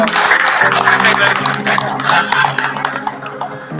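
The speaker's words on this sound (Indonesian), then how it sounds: "Boleh tepuk tangan untuk kita semua." An audience at a Golkar party political education event at Hotel Aksaya in Karawang claps loudly and steadily, with ringing tones sounding underneath and a voice briefly present.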